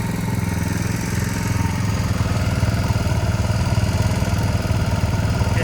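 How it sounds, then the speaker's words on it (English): Pressure washer spraying a Kawasaki Z125 Pro motorcycle, a steady close motor drone with a hissing spray, continuous and fairly loud throughout, no talk. "That pressure washer, it's got some power."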